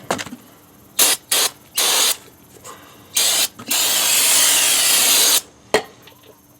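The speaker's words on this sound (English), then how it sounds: "I'm just going to use this non-chlorinated brake cleaner and give them a good blasting" Non-chlorinated brake cleaner is sprayed onto the brake rotors of a 2011-2017 Honda Odyssey in several short hissing bursts and then one long loud blast, with handling clicks between sprays.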